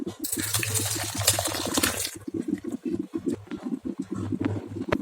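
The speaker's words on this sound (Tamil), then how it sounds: "இப்போ அப்படியே இதை பவுலுக்கு மாற்றிடுறேன்." Freshly made dal rasam is poured from a pot into a bowl, making a continuous close splashing and gurgling of liquid that shifts in intensity without any talking.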